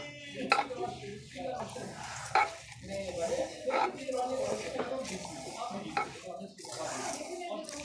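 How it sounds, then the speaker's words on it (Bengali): Whole spices (clove, star anise and cinnamon) are stirred and mixed in a pot, giving scraping, rustling stirs with a light sizzle while someone talks throughout. "দিয়ে এবারে আমি এগুলোকে মাখাবো"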